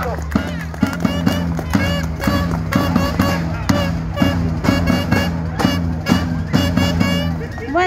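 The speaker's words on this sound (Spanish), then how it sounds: "Vamos, compañera, vamos a las palmas." A large crowd at a street rally in Argentina over Peru's Pedro Castillo claps in steady unison, the sharp beats repeating about every half second over continuous chanting voices and background hubbub.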